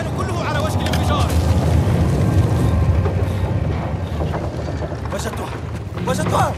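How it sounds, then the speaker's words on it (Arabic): An explosion in the Uncharted 4 video game, a deep rumbling boom with crackling debris that swells and churns for several seconds, loud and close, with no clear voices over it. "نيتن المكان كله على وشك الانفجار."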